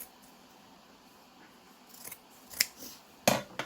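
Scissors trimming the excess fabric around a piped cushion cover, a few short crisp snips near the end, fairly close, with quiet rustling before them and no talking.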